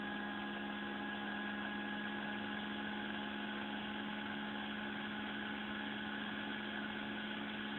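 Prototype concept generator running with its load disconnected: a steady, continuous mechanical drone with a strong humming tone and fine vibration, unchanging and moderately loud, with no talking.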